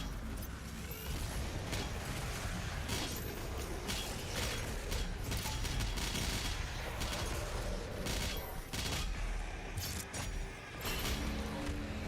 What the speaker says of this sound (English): We're doing micro missiles now.